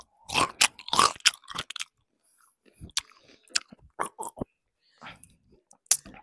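Big crunchy bites into a viral TikTok pickle, recorded very close: loud wet snaps and chewing come in bursts, separated by quiet pauses with faint mouth sounds.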